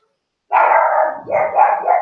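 A dog barks close by, one long drawn-out bark followed by a couple of shorter, rougher barks, loud and alone with no talk.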